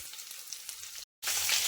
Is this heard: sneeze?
no